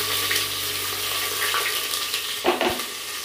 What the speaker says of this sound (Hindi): ऐसे भी भून लेंगे।